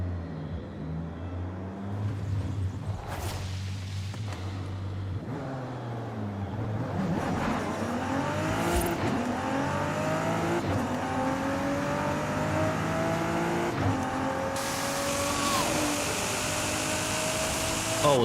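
JDM drift car engine in the video game Forza Horizon 5, revving repeatedly with rising pitch sweeps as it shifts through gears, loud and continuous, with faint talk in the background.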